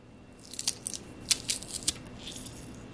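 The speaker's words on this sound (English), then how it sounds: "The Zulay Kitchen Garlic Press." A Zulay rose gold garlic press crushes a large chunk of garlic, giving a series of sharp, close crunches and squishy cracks in irregular bursts over a quiet background.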